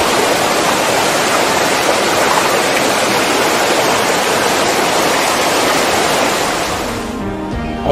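Aktaş Waterfall in a green forest setting in Düzce, Turkey: a loud, steady broadband rush of falling water close by, continuous and unbroken, easing slightly near the end.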